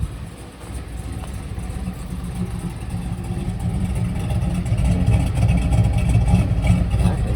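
A 2019 Chevrolet Silverado with a 6.2 crate engine and smaller camshaft runs through a big factory muffler, a steady deep low rumble that slowly builds louder across the clip, with no talking.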